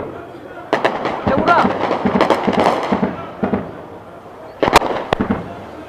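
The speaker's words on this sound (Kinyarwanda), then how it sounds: "imbunda nini zirimo zirarasa zikohereza ibisasu" Heavy guns fire and shells explode near Goma, on the border with Rubavu, as a series of sharp, loud cracks and booms in irregular bursts, some close together, with people talking throughout.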